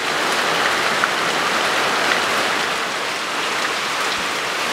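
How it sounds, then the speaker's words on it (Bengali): Rain has been pouring since the night, and it comes through as a dense, steady hiss of falling rain with no breaks, loud and even throughout. "বৃষ্টি নামছে সেই রাত থেকে"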